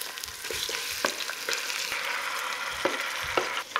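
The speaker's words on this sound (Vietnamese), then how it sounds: "Mình xào lên với lửa lớn trên trung bình nha" Marinated chicken stir-fries in a pot over high heat, a loud continuous sizzle with irregular knocks and scrapes of a utensil tossing the pieces, no talking.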